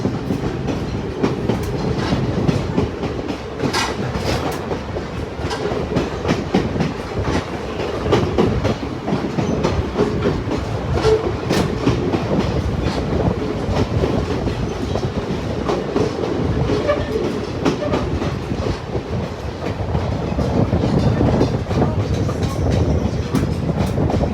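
Heritage train of the Niles Canyon Railway rolling along the track, a loud continuous rumble with rhythmic clickety-clack of wheels over rail joints and occasional squeals, heard from on board.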